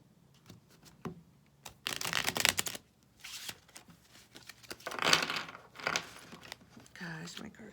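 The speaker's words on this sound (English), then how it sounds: "my cards just fell" A deck of tarot cards spills and slides in several bursts of papery rustling and clattering, quiet and close, separated by short pauses with soft handling noises between them.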